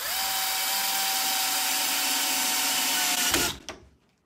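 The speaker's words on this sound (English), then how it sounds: "Again, take your screwdriver or power drill." A power drill or power screwdriver runs steadily while securing an aluminum rod on a three-layer chick brooder, whirring loud and close for about three seconds before spinning down and stopping.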